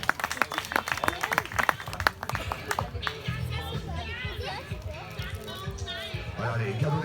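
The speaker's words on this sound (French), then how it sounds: "Merci d'applaudir Sylvain Clavel." Crowd applause for a finisher at a nature triathlon in Valbonnais, scattered claps and cheers with children's voices and chatter mixed in, steady and fairly close throughout.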